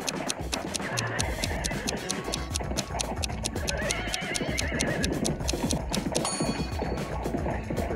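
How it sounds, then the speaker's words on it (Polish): A horse whinnies while hooves clip-clop steadily amid other clatter, the animal close and fairly loud throughout. "Jego koń nazywał się Piątek i widocznie coś mu dolegało."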